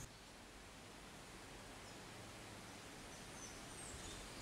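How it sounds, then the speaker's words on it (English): Wind stirring tree leaves beside a spring in wild countryside, a steady soft broadband rustle that holds evenly throughout with no voices, faint and continuous like distant moving foliage. "the sound of the wind rustling through the leaves"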